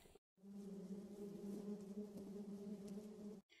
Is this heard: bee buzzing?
yes